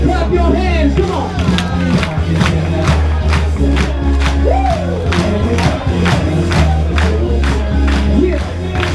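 A crowd at a Walmart Supercenter grand opening in Oklahoma City claps in rhythm, steady sharp beats under loud pumping dance music with a voice calling out over it.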